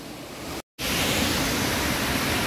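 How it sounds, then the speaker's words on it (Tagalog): Three-tiered Dimasalan Falls in Maria Aurora pours in a loud, steady broadband roar of rushing water, close and continuous, broken only by a split-second gap of silence early on. "ang 3-layer waterfalls dito sa Maria Aurora"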